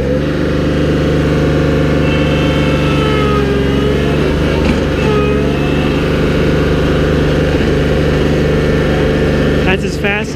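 A John Deere 4105 compact utility tractor engine runs at full throttle in high gear, a steady loud mid-pitched drone that holds evenly throughout with a brief shift near the end, with a person talking over it.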